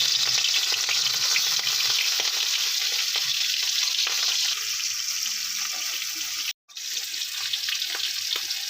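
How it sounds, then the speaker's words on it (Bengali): Pieces of rohu fish fry in hot mustard oil in a wok with a loud, dense, continuous sizzle and hiss. It carries on without pause apart from one brief dropout near the end, and no voices are heard. "মাছগুলো আমি দুদিকটাই ভালো করে ভেজে তুলে নেব"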